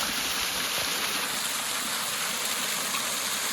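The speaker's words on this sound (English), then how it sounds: "Baby waterfall. Have a quick look. See how she's flowing." A small waterfall in the bush flows with a steady, broad rushing hiss, close and continuous throughout with no speech.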